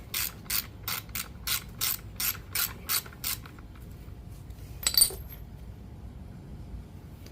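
A ratchet tightening a spark plug on an Echo SRM-2620 string trimmer, about ten evenly spaced clicking strokes at close range, then a pause and a single metallic clink.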